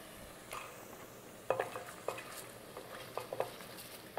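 Food simmering in a pan gives a soft bubbling sizzle throughout, broken by a few sharp clinks and scrapes of a utensil stirring against the pan, quiet and close with no talking.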